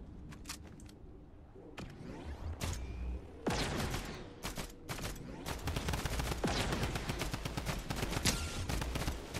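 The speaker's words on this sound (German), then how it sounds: "Ich höre Schüsse." Rapid gunfire in a Fortnite match, a dense crackle of many overlapping shots and bursts that build from sparse early pops into near-continuous distant-to-mid-range fusillade, loud and sustained with no talking.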